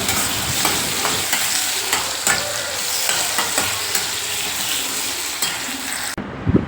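Tomatoes and onions sautéing in a pan for a South Indian fish curry, a close, steady sizzle of frying with repeated scraping stirs and light clinks of utensil on pan.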